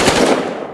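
A 5.56 caliber rifle gunshot from the shooter game Battlefield Hardline: one loud, close, broadband blast that blooms and then trails away in a short reverberant tail.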